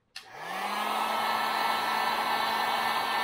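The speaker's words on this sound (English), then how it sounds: "I'm gonna plug in the heat gun and give it a go." Heat gun warming a Kydex sheet on a granite countertop, switching on with a click and then blowing a steady, close whooshing hum.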